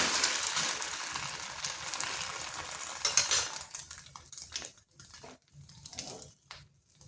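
An egg fries in a pan after being turned over for a quick breakfast dish, a soft broadband sizzle that is steady at first, then thins out into patchy crackles with brief utensil clinks.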